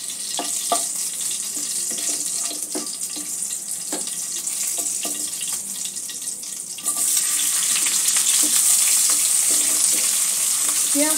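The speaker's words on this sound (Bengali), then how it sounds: "পেঁয়াজটা একটু নরম করে ভেজে নেব।" Sliced onions sizzle in hot oil in a pan for a Katla fish curry, a bright continuous hiss with scattered stirring clatters that grows louder partway through.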